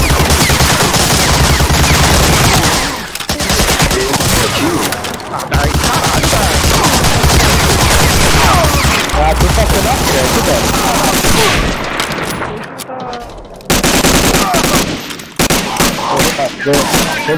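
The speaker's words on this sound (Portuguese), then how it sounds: "Mas tem uma troca de tiro de 5 SMG ali" Rapid, continuous bursts of automatic gunfire from five submachine guns in a video game, loud and close, with brief pauses between volleys.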